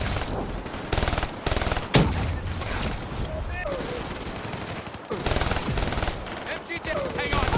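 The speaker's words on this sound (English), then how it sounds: "Got an MG in that brick building!" Bursts of machine gun fire from the shooter game Call of Duty Black Ops 3, loud and close, broken into rapid volleys with short gaps, mixed with scattered battlefield shots and voices over the firing.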